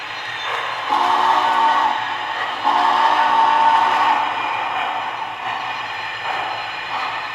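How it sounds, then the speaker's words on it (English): Steam whistle from a Lionel Vision Line Big Boy 4000 model train's onboard speaker, long sustained chime blasts in two loud swells with a quieter tail, no talking. "I like that whistle steam"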